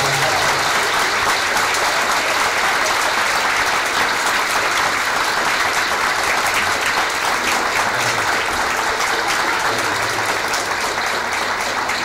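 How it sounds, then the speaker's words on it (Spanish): Loud, sustained applause of gratitude from a large audience at a World Palliative Care Day celebration at a care centre, dense clapping running unbroken for twelve seconds. "os pido que les deis un enorme aplauso de agradecimiento."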